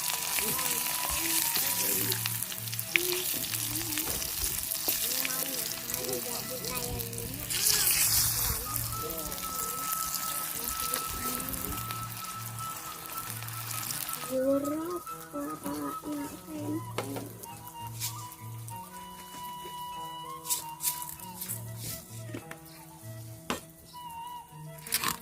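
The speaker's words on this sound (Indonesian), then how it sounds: "Goreng japuh," Japuh dried fish frying in a pan at a rice-field hut, a steady crackling sizzle running throughout with background speech and occasional clatter.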